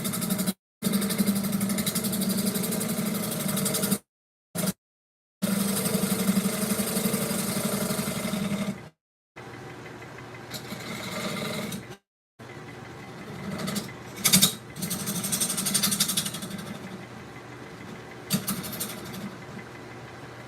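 Wood lathe running steadily while a tenon is cut on a spalted pine bowl, a continuous motor hum with tool scraping, broken by a few brief silent gaps, no talking.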